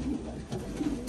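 Racing pigeons kept by a breeder coo softly nearby in a brief burst of low, throaty, rolling calls, with no speech.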